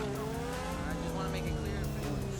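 The Grotti X80 Proto in GTA5 drives with a continuous, loud engine drone whose tones climb and shift as it moves, steady for the whole stretch without pause.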